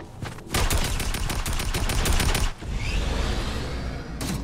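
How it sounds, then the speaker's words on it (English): Rapid gunfire in a video game: a short burst, then a long loud volley of evenly spaced shots, a brief pause, and more firing and rattling, up close and with no talk. "I shot someone. He was just running through the woods."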